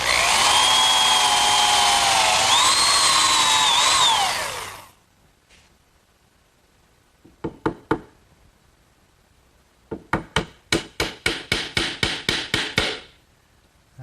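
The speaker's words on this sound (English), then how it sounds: "I'll drill some holes to secure the joint with some dowel pins." A power drill whines steadily for about four seconds while boring dowel-pin holes into a clamped wooden harvest table joint. Silence follows, then a few sharp knocks and a quick rhythmic run of close hammer taps.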